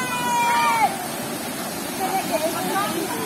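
Water thunders down Kabigtungan Falls in Abra as a steady, dense rush of falling water, close and constant, with people chatting and calling out over it.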